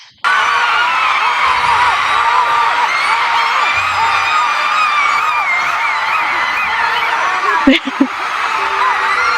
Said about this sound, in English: That's a fun scream.